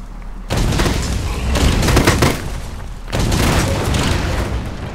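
Explosions boom in the video game Dragon Nest, dense rumbling bursts arriving in two long rolling waves separated by a brief lull, loud and close.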